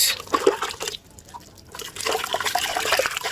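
Water runs and splashes as body scrub is rinsed off skin, a close trickling wash that pauses briefly, then resumes as a fuller, steady flow of dripping water.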